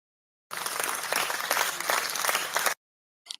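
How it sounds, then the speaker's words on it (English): Canned applause fired from a soundboard during an online community talk session, a dense burst of clapping lasting about two seconds that cuts off abruptly, followed by a short faint blip. "Sarah, you want to hit us with the claps?"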